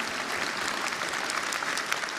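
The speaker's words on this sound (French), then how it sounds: "Je note ceux qui applaudissent." Sustained applause from a big audience at a Mélenchon political meeting in Nantes: dense, uniform clapping that holds steady and loud from start to finish.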